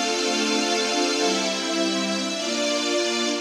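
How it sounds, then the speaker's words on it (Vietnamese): A sustained string-ensemble voice on a Yamaha keyboard plays a dense, chordal pad with gently shifting harmonies, steady and fairly loud with no talking, accompanying a Vietnamese song. "Đầu tiên đó là tiếng string."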